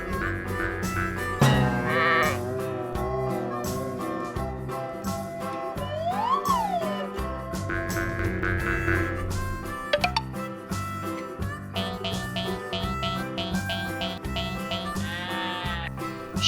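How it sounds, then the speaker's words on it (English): Sheep bleating loudly in repeated wavering calls over a continuous music backing, with a brief rising-falling tone in the middle and no talking. "Sheep,"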